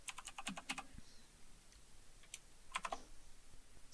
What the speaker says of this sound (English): I'm a true gamer with a mechanical keyboard, so it's loud.